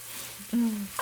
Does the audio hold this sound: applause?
no